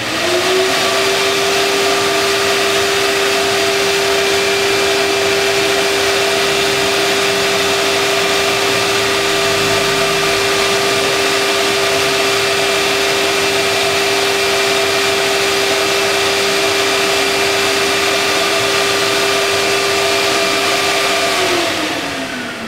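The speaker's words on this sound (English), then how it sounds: "So first, I'm going to flip on the vacuum." A shop vacuum hums steadily and loudly for about twenty seconds, collecting dust during wood sanding, with a sustained whine that winds down at the end; no one speaks.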